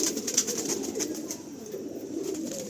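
Pigeons coo softly in a loft, a low murmuring burble with faint repeated clicks and rustles, steady and close, with no one talking.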